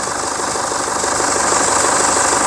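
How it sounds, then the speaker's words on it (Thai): An Isuzu D-Max Space Cab pickup engine idles close by with a steady, even rumble and light mechanical ticking, no voices. "เสียงเสียงเครื่องเงียบมาก"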